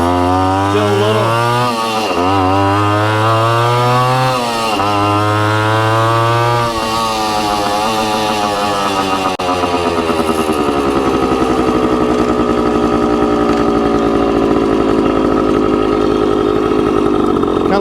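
A Suzuki TC-90 motorcycle engine runs alone, loud and close, blipping the throttle in several short revs before settling into a steady, buzzy two-stroke idle.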